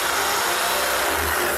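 A power drill spins a Forstner bit through wood for an arcade cabinet build, a steady loud whirring grind with a brief dip partway through.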